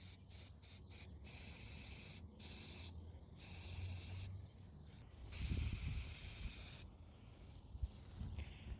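Several short bursts of hissing aerosol brake and parts cleaner sprayed onto spark plugs from a Lexus RX300, separated by pauses, followed by a few quieter rubbing and mechanical handling noises nearby.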